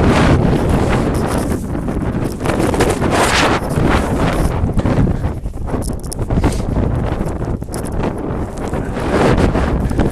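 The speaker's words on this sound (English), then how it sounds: "the wind is whipping really hard" Strong wind whips and roars steadily through a snowstorm whiteout around a protest camp, a loud, gusty buffeting close on the microphone for the whole stretch with no voices.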